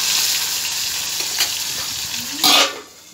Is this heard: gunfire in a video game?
no